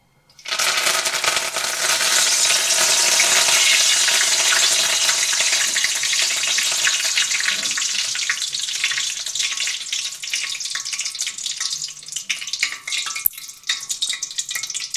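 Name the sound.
curry leaves frying in hot oil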